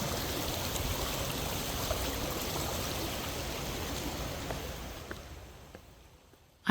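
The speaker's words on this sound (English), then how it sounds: "dip your feet in the cool water in Sawmill Creek, which happens to have several small waterfalls that empty into the Des Plaines River" Small waterfalls in Sawmill Creek, a steady rushing, splashing wash of water heard close and continuous, slowly easing off near the end before a sharp knock.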